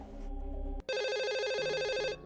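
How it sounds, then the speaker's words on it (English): Telephone ringing in the horror game Twilight Syndrome Kyuumei-Hen, a short electronic tone, a brief break, then a bright trilling ring held for over a second, loud and unaccompanied. "The phone rings again"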